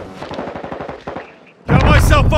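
Rapid automatic gunfire from a first-person shooter video game, a fast rattling burst that fades, then a louder dense barrage with overlapping shots, mixed with game audio.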